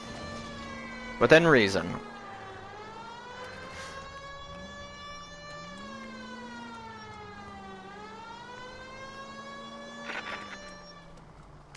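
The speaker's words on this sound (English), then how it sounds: "That's why I have my siren on." Police car siren in the video game L.A. Noire wails steadily throughout, slowly rising and falling in pitch, with a brief voice and a couple of short bursts layered over it.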